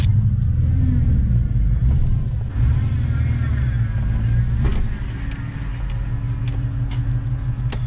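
An LS1-powered Nissan Patrol GU drives laps, its engine a steady low rumble heard from inside with road noise, easing slightly partway through as it keeps rolling.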